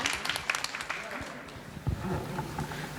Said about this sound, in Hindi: चलिए साहब निशा जी के सम्मान में तालियां बजाएं एक बार।